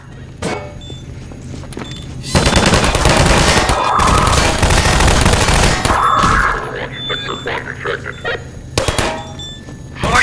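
Turret gunfire in Half-Life 2, a loud sustained burst of rapid automatic fire lasting several seconds, followed by scattered shorter bursts and mechanical clanks against the game's ambient background.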